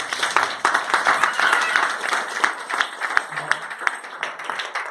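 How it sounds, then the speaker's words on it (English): A church congregation gives a round of clapping, bursts of claps rising and falling with some sharper individual claps standing out, a few voices faintly mixed in. "Can you give the Lord a clap offering?"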